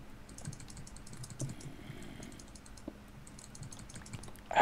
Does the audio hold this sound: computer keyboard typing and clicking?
yes